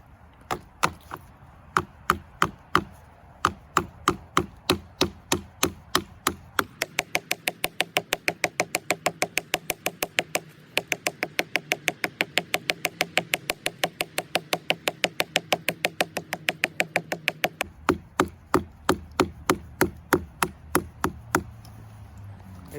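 An axe multi-tool chops repeatedly into a wooden twig, a long run of sharp, evenly spaced knocking strikes. The pace is steady and quickens through the middle, and the blows are close and crisp.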